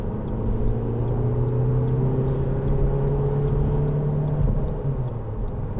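A 2010 SEAT Leon 2.0 TD FR diesel hatchback accelerates hard from about 40 mph in third gear on a motorway slip road. Heard from inside the cabin, the engine drone stays loud and steady and climbs gradually in pitch with no pauses or talk.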